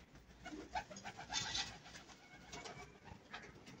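Pet pigeons arriving near a rooftop loft give faint, distant cooing and soft fluttering over quiet outdoor background noise.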